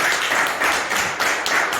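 A church congregation applauds the Lord during a sermon, a dense, loud, continuous wash of clapping from many hands filling the room.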